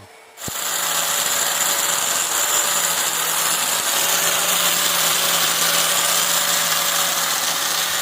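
An angle grinder with a special disc starts abruptly and runs steadily with a high, whining hiss, polishing a hard masonry surface smooth at close range.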